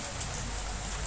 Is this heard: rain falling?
yes